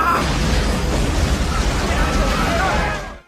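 A guided bomb from a RoboCop film detonates in a loud, sustained rumbling blast with heavy low roar that fades out abruptly at the end, with a voice over it.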